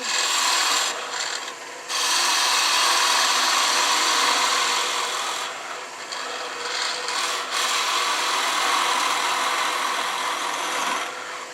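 A woodturning gouge rides its bevel as it cuts a wooden egg on a lathe. The shaving hiss is loud, close and continuous and dips briefly twice as the tool moves.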